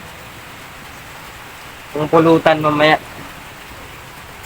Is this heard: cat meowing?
no